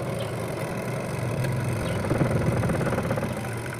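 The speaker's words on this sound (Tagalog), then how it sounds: "umuugong lang yung sa motor ng washing machine" Washing machine motor with a broken capacitor humming steadily without turning properly, a constant low drone heard up close with no talking.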